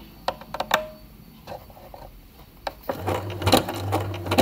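A sewing machine backstitches over earlier stitches while making a pair of Jakarta shorts. A few light clicks and taps come first, then the machine runs in a fast, close, rattling stitch burst.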